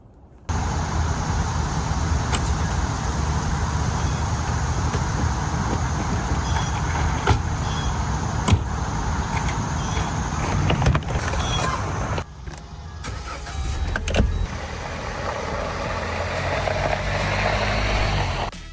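Road traffic in Washington, D.C., heard from inside a moving vehicle: a continuous low rumble of engine and tyre noise with passing cars, scattered clicks and knocks, fairly loud and steady, without talk.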